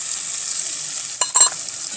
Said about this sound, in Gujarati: તો તેમાં આપણે આ ટમેટાની ગ્રેવી ઉમેરી દઈશું